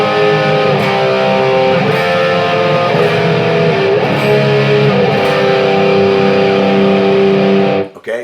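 An electric guitar in Drop C tuning plays a chord sequence in the Phrygian dominant mode, with sustained, distorted chords changing every second or so, and the last chord cut off abruptly.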